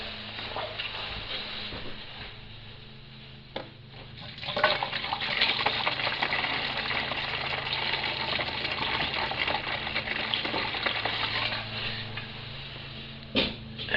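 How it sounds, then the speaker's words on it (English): Water runs steadily into a container, a continuous gurgling pour with a faint mechanical hum beneath and a few brief knocks. "I'll try to put water in it and see if it fills up."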